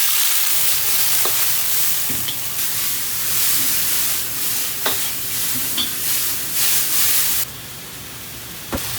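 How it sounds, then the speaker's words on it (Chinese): Bean sprouts stir-fried in a hot wok with oil and a few dried Sichuan peppercorns, a steady loud sizzle with scraping spatula strokes throughout, the hiss brightening sharply near the end. "我们先把豆芽炒一下哈"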